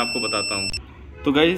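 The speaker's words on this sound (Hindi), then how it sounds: "डीसी में लगाते ही बीप का साउंड अगर आ रहा है" A thin, steady high-pitched beep from a faulty DC power cable circuit sounds under someone talking, then cuts off abruptly partway through while he keeps speaking.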